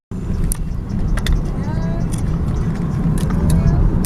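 An Audi A4, stated as a 2003 3.0 V6, driving on the road with a steady engine and tyre rumble heard from inside the car, plus faint intermittent clicks and rattles throughout.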